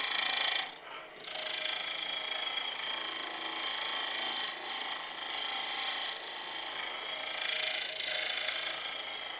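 A wood lathe spins a workpiece while a turning tool takes a tiny finishing cut, a steady close whirring hiss with faint ticking and a brief dip near the start, and no speech.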